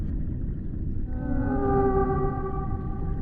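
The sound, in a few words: whale song of humpback whales or orcas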